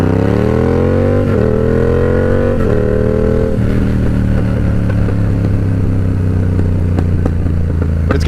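A Yamaha R7 sport motorcycle engine revs and then drops back, its pitch rising and falling, with sharp crackling exhaust pops layered over the loud, close exhaust note.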